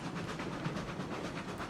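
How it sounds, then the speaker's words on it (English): Steam locomotive running in the railroad video game RailRoads Online, a faint, steady rumble with soft rhythmic chuffing and rail clatter, quiet and unbroken, with no talk. "That is just a Loco."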